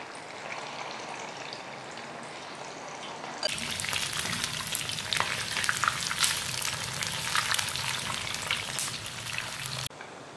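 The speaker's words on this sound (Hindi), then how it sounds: "ऑयल में हमने इसको फ्राई कर लेना है" Marinated chicken pieces dropped into hot oil on a medium flame, a quiet kitchen hush suddenly bursting into loud, dense crackling and spattering sizzle that carries on for several seconds before cutting off.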